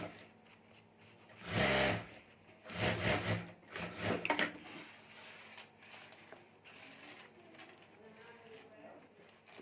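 A sewing machine stitches together the two open sides of a homemade fabric mobile cover, with loud bursts of mechanical whirring around two to four seconds, then quieter handling and rubbing sounds.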